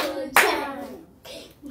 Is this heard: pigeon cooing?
no